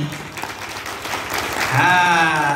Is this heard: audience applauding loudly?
yes